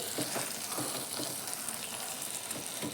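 Vegetables sautéing in a pan, a steady, soft sizzle with faint stirring scrapes repeating through the clip, fairly quiet and without talk.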